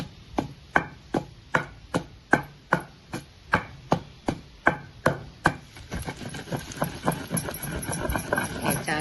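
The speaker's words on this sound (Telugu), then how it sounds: "వెల్లుల్లి చూడండి నలిగిపోయినాయి కచ్చాగా" Garlic is coarsely crushed with about twenty sharp, evenly spaced pounding thuds, close and clear, before turning into quicker, rougher grinding strokes. It is being prepared for a banana yogurt chutney, and nobody speaks.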